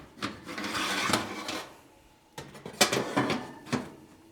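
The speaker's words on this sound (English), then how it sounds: "we need to move this top rack out of the way" A metal oven rack is pulled out and shifted, giving clattering scrapes and knocks close by in two bursts separated by a short lull.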